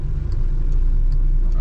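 A car engine idles and pulls low and steady while being held on a hill in first gear during a driving test practice, a continuous close rumble with no voices.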